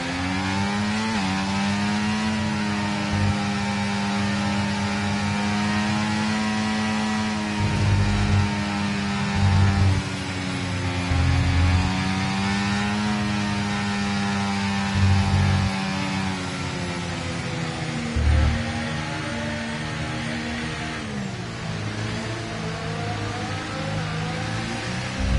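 An F1 24 race car engine in the video game revs at the race start, a loud, sustained high-pitched whine holding steady with occasional low thumps, rising and falling slightly over a long stretch with no talk.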